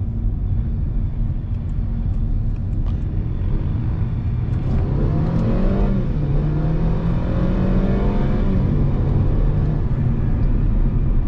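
A Mercedes A250 with a seven-speed dual-clutch gearbox accelerates on the road, its engine note rising and falling through gear changes over a loud, steady rumble of tire and road noise, with no talking.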